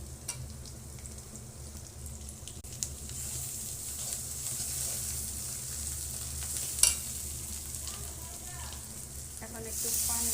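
Spices being added to browned onions frying in oil in a home kitchen, a steady hiss that swells into a louder burst of sizzling near the end, with stirring scrapes throughout.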